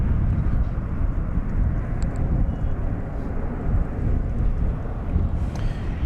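A plane arriving at DFW Airport roars as a broad, steady rumble close by, mixed with gusty wind buffeting the microphone throughout.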